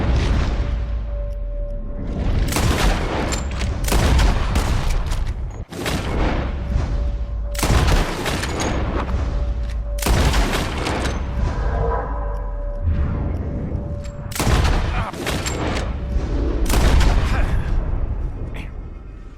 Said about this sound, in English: As soon as you see him, start shooting.